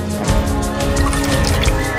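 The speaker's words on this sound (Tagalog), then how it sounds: "Ilalagay natin yung tinunaw natin na pork cubes sa mainit na tubig." Dissolved pork cubes are poured into hot water while making homemade pork siomai dumplings, a close, continuous splashing pour with liquid drips throughout and no talking.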